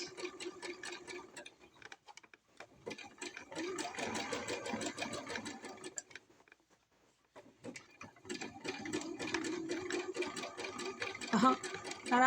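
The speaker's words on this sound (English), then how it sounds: "And I'm still on my zigzag." A sewing machine runs a zigzag stitch in steady bursts of rapid mechanical clatter, pausing briefly around the middle before resuming, close and fairly loud with no talking.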